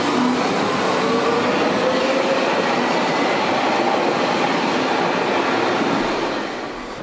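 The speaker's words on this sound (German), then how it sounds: "Wir kehren also zurück in den Tunnel und machen uns auf den Weg zum nächsten U-Bahnhof." A Berlin U9 subway train runs through a tunnel with a loud, continuous roar and rumble, faint wheel squeal rising above it, before the noise eases slightly at the end.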